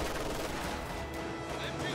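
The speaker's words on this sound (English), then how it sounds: "MG42 sets up the fire on those riflemen there" Video-game gunfire from an MG42 machine gun raking riflemen, a dense continuous crackle of shots and battle noise held steady throughout the brief moment, with faint voices underneath.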